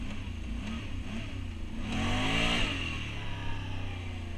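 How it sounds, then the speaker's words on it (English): A Can-Am 570 ATV on 29.5-inch Outlaw tires idles roughly, then revs up hard for a couple of seconds during a wheelie attempt before dropping back to a low rumble. "Time to see if it can still do wheelies."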